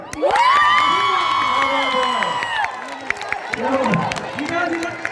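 A college crowd at a zonal stage event cheers and whoops loudly, with scattered clapping and shouting voices rising and falling throughout, close and dense.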